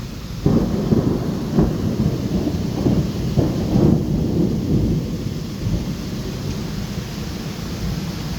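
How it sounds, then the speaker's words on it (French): Heavy rain pours steadily in a dense hiss during a violent thunderstorm in Bordeaux, with rolling thunder rumbling repeatedly underneath throughout. "Il pleut beaucoup trop fort là."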